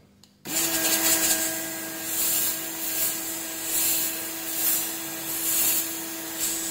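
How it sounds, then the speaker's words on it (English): A hot air gun blows steadily on a smartphone's USB charging port during repair. A strong, close airflow rush switches on abruptly and holds with a constant whine, swelling slightly in waves, with no talking. "from inside to outside, giving an airflow, we will heat it up using hot air gun"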